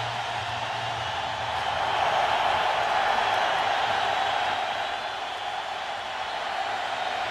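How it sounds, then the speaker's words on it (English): Steady roar of a large stadium crowd at an NFL game in Houston, Jaguars at Texans in 2009, loud and continuous with a swelling midway and no clear speech over it. "As always, the crowd is loud here in Houston."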